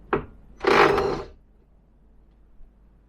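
A power tool undoes the 10mm boot lid bolts on a 1993 Peugeot 306: a short click, then a half-second whirring buzz, followed by quiet with a faint tap.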